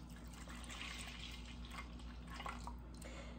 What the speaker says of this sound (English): Then we are going to pour in our whipping cream.